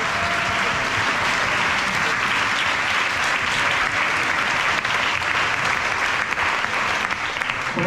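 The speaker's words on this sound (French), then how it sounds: "Alors vous pouvez vous applaudir, s'il vous plaît, parce que vous le méritez bien." An audience at a women's Raid Cap Ferret challenge event applauds itself, a steady, dense wash of clapping from many hands that holds at an even level for the whole stretch, with no voices on top.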